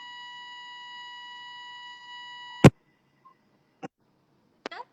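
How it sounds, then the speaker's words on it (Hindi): A steady electronic beep tone holds for about two and a half seconds from a Bluetooth microphone or phone, then cuts off with a sharp loud click followed by a few fainter clicks and taps in near silence. "बीप बज रहा है आपके माइक्रोफोन का"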